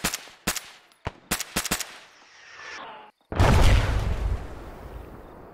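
Gunfire in the ARMA 3 video game: several sharp, separate shots in the first two seconds, then after a brief silence a loud, heavy blast that settles into a long rumbling decay.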